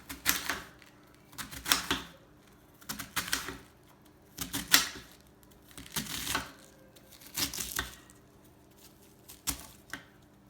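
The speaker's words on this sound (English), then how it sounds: "So you take a knife. You just shred it." A knife shreds cabbage in repeated bursts of crisp chopping and slicing, about six clusters of rapid cuts spaced roughly a second and a half apart, close and moderately loud with quiet gaps between.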